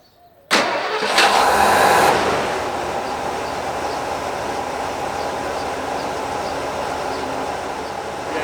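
A 34-year-old Ford F-150 truck's engine cranks briefly and fires up loudly after a moment of silence, then settles into a steady, rumbling idle nearby.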